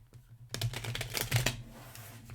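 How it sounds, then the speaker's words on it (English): A deck of tarot cards is shuffled by hand, giving a quiet burst of quick, crisp clicking and fluttering that lasts about a second with no voices. "Let's shuffle the cards a little bit and see what's going on there."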